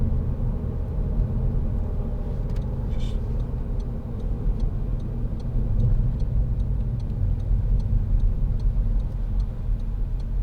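A 2010 SEAT Leon 2.0 TD FR diesel hatchback cruises in third gear, its low engine drone and road rumble steady and loud inside the cabin, with faint regular ticking over the top.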